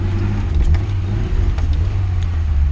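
A VAZ-2106 car engine with a failing idle runs at a low, steady rumble, close and fairly loud, with a slight uneven pulse to its note.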